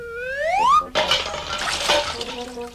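Cartoon water splash as a rabbit jumps out of a watering can in a Reader Rabbit toddler game: a rising whistle-like slide tone cut off by a bright, fizzy splash that trails off with tinkling drops.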